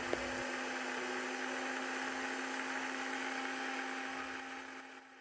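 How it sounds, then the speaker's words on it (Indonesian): A blender runs steadily, pureeing a pumpkin and coconut milk mixture, with a constant motorized whir and hum, close by, winding down at the end; no voices. "Setelah itu, blender ketiga bahan ini sampai halus."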